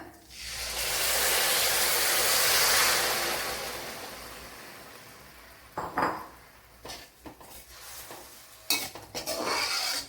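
Jaggery syrup poured over vermicelli in a pan makes a loud rushing hiss and sizzle at first, fading into intermittent spoon scrapes and clinks against the pan, close up.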